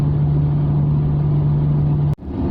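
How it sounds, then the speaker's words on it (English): A Rover 45 with a 2-litre V6 pulls up a slight incline under heavy throttle, heard from inside the cabin as a steady, droning hum with a fixed low tone, cut off briefly near the end. "Oh, there's the downside of a 2-litre V6. I'm having to put my foot down to go up a very slight hill."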